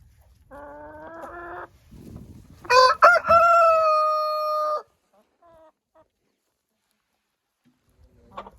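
Hens clucking briefly, then a rooster crowing loudly and close in a sustained call, with a few faint clucks after, in a backyard henhouse.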